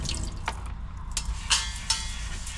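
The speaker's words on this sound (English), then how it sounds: "Bit of hot water." Hot water runs from a tap into a sink, a soft continuous splashing flow with a few sharper drips and splashes, fairly quiet, with no voices.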